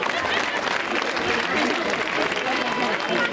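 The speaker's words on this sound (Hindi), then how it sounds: "मुख्य अतिथि के स्वागत में तालियां।" A crowd at a school annual function claps to welcome the chief guest, a dense continuous patter of applause with murmuring voices mixed in throughout.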